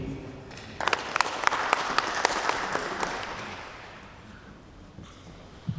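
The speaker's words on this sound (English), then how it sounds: "I just want to give a very generous round of applause to the town planning team." Applause for a town planning team at a precinct plan meeting, starting suddenly, building with sharp individual claps, then thinning out as a few hands linger and a voice murmurs underneath.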